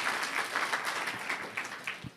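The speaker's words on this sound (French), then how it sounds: "Je voudrais ici que les élèves les applaudissent pour le travail qu'ils sont d'accomplir." Students applauding at a civic forum of integrity clubs in Guinguinéo, Senegal: a moderate, steady patter of many hands clapping throughout, somewhat distant and without talk.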